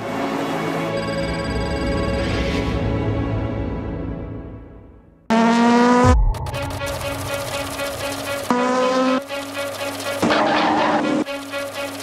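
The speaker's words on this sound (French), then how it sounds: "The 3 Audis are leading the pack in all first 3 positions, followed very, very closely by the 2 Toyotas." Audi and Toyota prototype race cars at the 2013 Le Mans 24 Hours roar past one after another, loud engine notes rising and falling sharply with abrupt cuts between passes.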